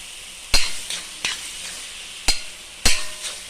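Green chili and chili powder sautéing in a pan for dum biryani, with a steady oil sizzle broken by four sharp clinks of a spoon stirring against the metal.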